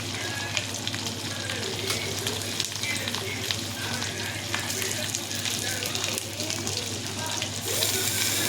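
Fish pieces fry in hot oil with a dense, steady sizzle and crackle up close, with faint kitchen clatter and occasional stirring underneath.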